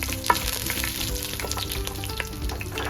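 Ginger, dried chilli and fenugreek fry in hot oil for a fish curry, a close, steady sizzle with crackling pops and the scrape of stirring, no voices over it.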